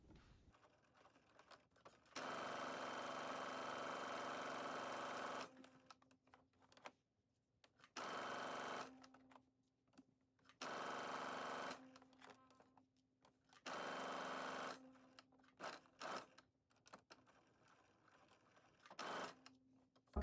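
A sewing machine stitches the center back seam of sweatsuit pants in four main runs with short pauses between them, plus a few brief bursts near the end, steady and close against a quiet room.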